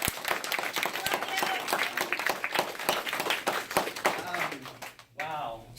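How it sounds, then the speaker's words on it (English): A church audience claps in a round of applause for Pastor John at a Hispanic congregation, a dense steady patter of many hands filling the room for about five seconds before dropping away. "So you guys need to give him a round of applause"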